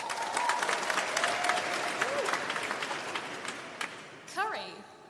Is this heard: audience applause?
yes